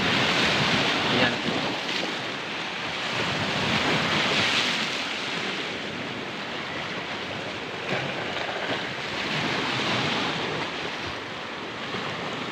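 Strong sea waves crashing and surging during a typhoon, a continuous loud roar of surf mixed with gusting wind buffeting the microphone, swelling and easing in broad waves.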